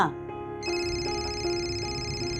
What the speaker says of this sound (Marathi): फोन वाजतोय का तुझा?